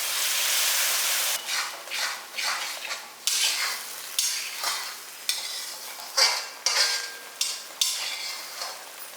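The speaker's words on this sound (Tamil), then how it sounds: "ரெண்டு தக்காளியும் பேஸ்ட் மாதிரி அரைச்சி வச்சுருக்கேன் இதையும் ஊற்றிடலாம்" Tomato paste, ground from two tomatoes, goes into a pan for okra tamarind kuzhambu, setting off a sizzling fry with a sequence of close scraping, stirring strokes and metal-on-pan clinks, with no voices.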